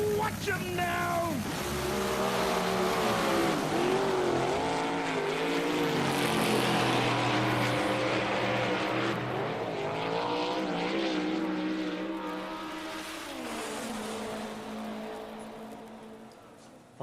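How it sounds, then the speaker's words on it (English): Vintage race cars rumble and roar at a race start, a loud, sustained engine drone with rising and falling pitch sweeps as the cars accelerate, filling the whole clip with a broad wash of noise. "Listen to the rumble. Listen to the roar."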